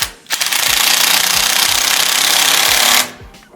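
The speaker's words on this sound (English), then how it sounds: "grab a 10 mil. Just go ahead and tighten that in there" A power tool with a 10 mm socket tightens a crash cage bolt on a Yamaha MT-07 / FZ-07 / R7. The rapid hammering burst runs loud and close for nearly three seconds, then cuts off.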